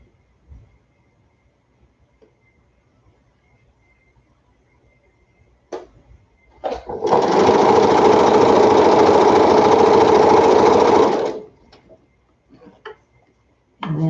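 Sewing machine running a straight stitch through a quilt: a few short clicks, then a steady loud mechanical whirring for about four seconds before stopping, followed by scattered handling clicks.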